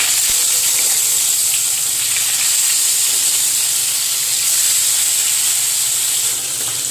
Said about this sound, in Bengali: তেলটা গরম হয়ে গেলে এক এক করে মাছগুলোকে ভেজে নেব।